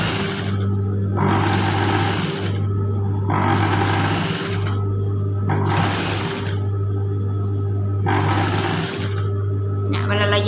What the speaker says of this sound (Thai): เย็บวนไปจนถึงอีกฝั่ง